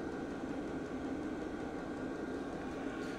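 A GEVEELIFE 12V 8KW diesel air heater's exhaust is heard from indoors as a faint, muffled, steady drone with no changes in rhythm.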